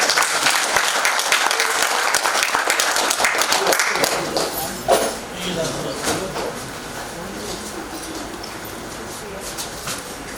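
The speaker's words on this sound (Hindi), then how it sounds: "जोरदार तालियों के साथ स्वागत कीजिए।" Loud crowd applause welcomes the chief guest at a formal ceremony, dense clapping that swells and then gradually thins over about ten seconds, with some background voices.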